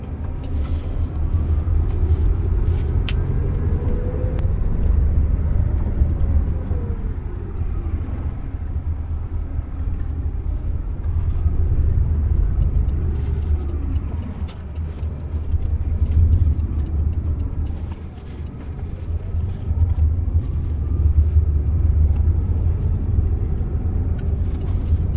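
Interior of a Waymo self-driving car moving through a left turn, with a steady low road rumble and mild engine hum throughout and no talking.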